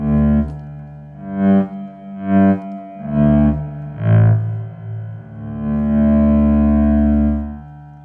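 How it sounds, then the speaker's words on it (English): Bass guitar notes swelling in slowly one after another via a volume pedal on a Boss ME-6B bass multi-effects processor, each blooming into a long, washy reverb tail that sustains and overlaps, ending in a held swelled tone. "So you hear that reverb. I intentionally made it very, very, very long"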